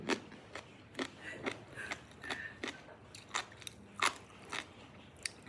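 Someone chews crunchy cannonball jellyfish, and each bite gives a sharp crisp crunch in a steady rhythm, about a dozen bites in close succession heard near and alone.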